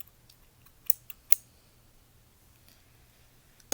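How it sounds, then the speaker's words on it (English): Small bandage scissors are handled, giving a few sharp metallic clicks and snips in quick succession, close and crisp against a quiet background. "I got a small set of little bandage scissors."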